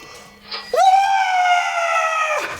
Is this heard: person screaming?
yes